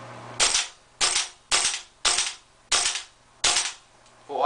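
A gas blowback airsoft M4 rifle fitted with a JDT steel bolt carrier fires six sharp semi-automatic shots at a steady pace of about one every half second, each a crisp crack with a hissing gas tail, recorded close.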